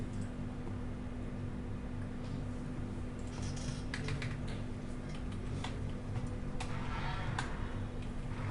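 Typing a query on a computer keyboard while writing PHP PDO code: irregular light key clicks over a steady electrical hum, fairly quiet and alone.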